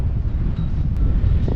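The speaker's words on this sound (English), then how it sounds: "It is just too windy." Strong wind buffets the microphone at a model jet airfield, a loud constant low roar with gusty fluctuations and no voices.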